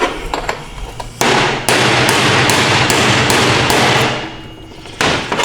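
Loud, sharp metal hammer blows drive a bushing out of a 4L60 automatic transmission, with about a dozen irregular strikes, some in quick bursts and others spaced apart, with ringing noise between them.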